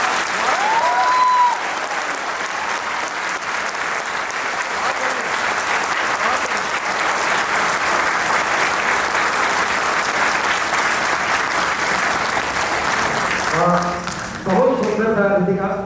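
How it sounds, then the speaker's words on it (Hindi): An audience applauds at the end of a Hindi stage play, sustained dense clapping that fills the hall, then fades and breaks up near the end as a voice begins to speak. "इन तालियों की गूंज मुझे इससे डबल सुनाई देनी चाहिए"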